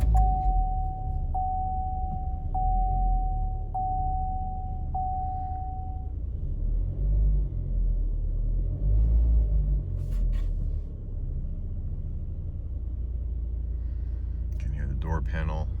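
Low exhaust rumble from a damaged, worn-out flex pipe on a Chevy Sonic, heard from inside the car, a steady deep drone throughout with a few brief rattles and a short tonal chime early on.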